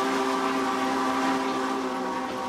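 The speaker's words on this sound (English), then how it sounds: "If anyone didn't know the 844 was coming, they would when they hear the whistle blow." A Union Pacific 844 steam locomotive whistle blows one long, steady, chord-like blast, loud and unbroken throughout.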